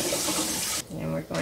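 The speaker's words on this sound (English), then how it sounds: "and run cold water on them." Cold tap water running into a pot of boiled eggs, a steady close gush that briefly changes tone before pouring strongly again.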